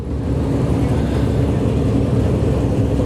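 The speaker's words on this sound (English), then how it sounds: "you can hear the sounds of the rumble of the Cup cars as they've came to life" NASCAR Cup car engines rumbling after starting up in the Darlington Raceway garage, a loud, dense, continuous low roar heard close with no breaks.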